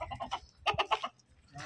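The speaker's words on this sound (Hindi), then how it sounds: "ये मुर्गिया शोर कर रही है।" Farm hens cluck and squawk in short, close bursts, a quick cluster of calls followed by a pause and another brief call.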